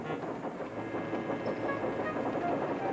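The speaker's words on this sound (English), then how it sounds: "Thomas was shunting shining new coaches." Steady rumbling train sound with faint rattling and rolling noise, continuous and moderately quiet for about three seconds, fitting a steam engine shunting shiny new coaches in a model railway scene; no voices.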